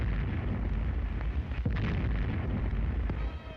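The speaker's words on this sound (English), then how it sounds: "Off Shannon Island, the Nazi trawler is sighted and American guns cut loose." American naval guns fire on a Nazi trawler off Shannon Island in a WWII Coast Guard newsreel, a dense, continuous roar of blasts and rumbling booms with a muffled, boomy vintage-film quality and no talk.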